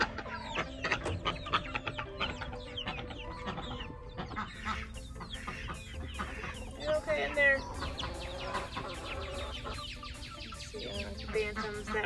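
Bantam Cochin chickens in a backyard coop cluck and chatter in soft, overlapping bursts throughout, with other birds and faint voices in the background.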